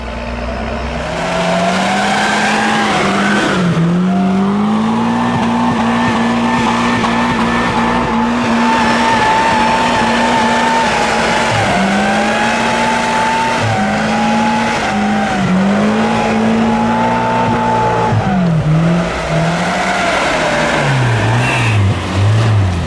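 A tracked Land Rover off-road vehicle drives with its tracks spinning, giving a loud, steady engine drone with rising and falling pitch sweeps and a continuous grinding rumble throughout.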